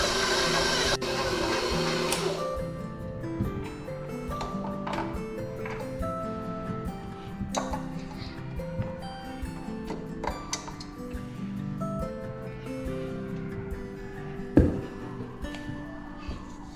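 A stand mixer kneads sticky pretzel dough with a steady, close mechanical whir and rattle, broken by irregular knocks and one sharper clunk near the end.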